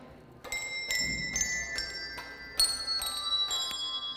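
Handbells ring out a simple tune, clear struck tones one after another at a steady, unhurried pace, each note lingering and overlapping the next.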